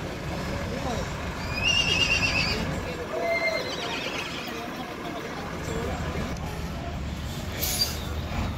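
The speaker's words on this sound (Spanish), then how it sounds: "por acá tenemos también otros caballos, pues que están siempre a la venta acá" Horses for sale on a ranch in El Tránsito, San Miguel, El Salvador, neighing and whinnying at moderate distance, with hoof clip-clop and passing vehicle rumble behind someone talking.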